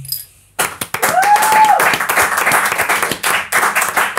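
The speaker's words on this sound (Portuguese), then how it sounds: "Uma salva de palmas para o extinto." A short burst of clapping on a casual podcast, dense, close hand claps starting abruptly after a brief quiet moment and continuing steadily, with a voice sounding briefly over the start.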